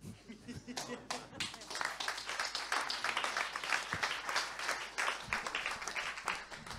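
Conference audience claps in sustained, even applause for several seconds, a dense patter of many hands close by with no break.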